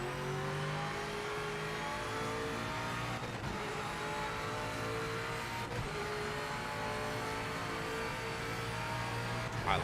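A Mosler race car engine in a racing sim drones steadily with a sustained harmonic whine at constant loud level, with brief shifts around gear changes and no talking.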